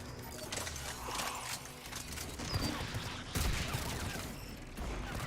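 Bursts of gunfire in the sci-fi shooter Mass Effect 3, a rapid series of sharp shots and impacts mixed with game effects, fairly faint and steady throughout.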